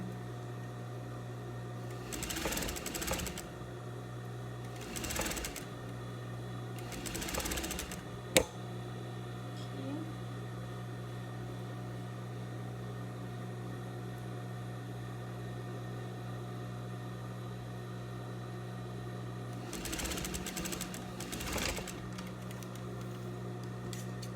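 A sewing machine stitches a red viscose dress in a few short, quiet runs of rapid needle chatter, separated by long pauses filled with a low steady hum.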